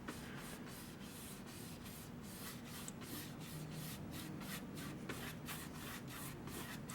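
A brush drags gesso across a canvas in side-to-side strokes, giving a soft, steady, repeated scratchy rubbing, faint and close, with no talking.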